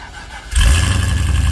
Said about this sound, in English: Cold start on the V wagon.